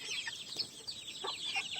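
Short, rough clucking calls from a native country-breed (natukodi) rooster, close by, over a steady hissing background.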